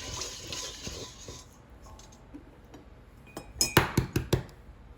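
A spoon stirring dry yeast and sugar in a glass bowl, with quiet scraping at first and then a quick run of bright, close clinks against the glass near the end.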